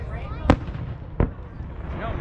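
Fourth of July fireworks at a lakefront in Big Bear, California burst twice with sharp booming cracks about a second apart, loud against a murmuring crowd background.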